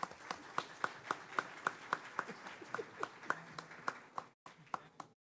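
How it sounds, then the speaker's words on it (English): A small group at an Edgewood ISD board meeting claps in a sparse, fairly regular rhythm, the separate claps distinct rather than blended. The sound is moderately faint, and it breaks off briefly near the end before a few last claps. "let's give him a round of applause"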